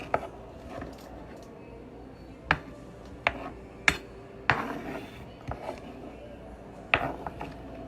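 Knife blade scraping chopped peppers off a cutting board, a series of sharp knocks and scrapes at irregular intervals, close and fairly loud, with no talking.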